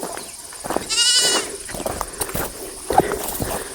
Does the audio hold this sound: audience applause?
no